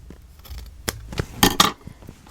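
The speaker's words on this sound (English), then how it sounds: "Let's cut off the excess." Scissors snip off excess paper while a handmade card is being finished, giving a few close, crisp cuts with soft rustling between them and no talk.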